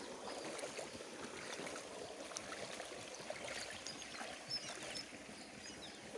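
Irrigation water running through a small channel in a fodder field, a soft, continuous trickling and gurgling flow, fairly faint and close, with no speech.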